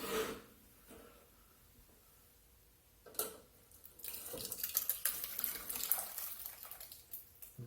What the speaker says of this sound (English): I'm going to pour that chili sauce that meat was braised in over here and get it strained off